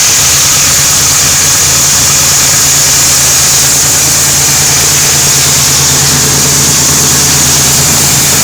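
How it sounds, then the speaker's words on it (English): A car engine idling after its idle air control valve was cleaned with carburetor cleaner, giving a loud, steady, even hum with no voices over it. "So you want to let your engine idle for anywhere from about 5 to 10 minutes."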